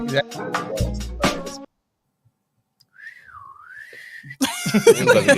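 A sassy, sliding whistle rises and dips for about a second and a half between bursts of lively talk and laughter on either side.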